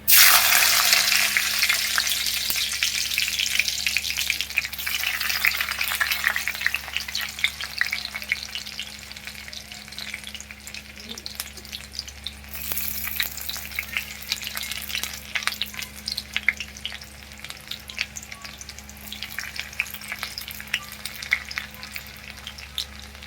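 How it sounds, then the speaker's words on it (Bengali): Chopped garlic fries in oil with a steady sizzle and crackle and occasional stirring scrapes, loud at first and settling into a continuous fry throughout. "এবার এই তেলের মধ্যে বাকিটা করব প্রথমে রসুন কুচি দিচ্ছি"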